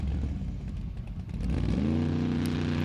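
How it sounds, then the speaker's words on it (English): A Formula Offroad car engine revs hard on a Norwegian track, rough and unhealthy, shifting from a clattering rumble into a rising, strained drone, close and loud. "Engine did not sound healthy there"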